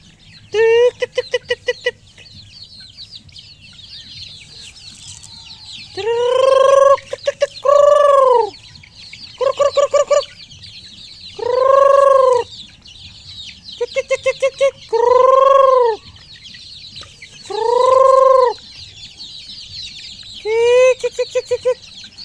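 Grown chickens raised from incubator-hatched chicks cluck loudly and close by in repeated bursts, with rapid stuttering clucks alternating with longer drawn-out calls over a quiet background hum.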